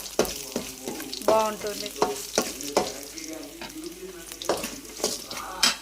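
Chana dal frying in a pan for a curry leaf chutney, with soft sizzling and repeated stirring scrapes throughout, close up, and a brief spoken word.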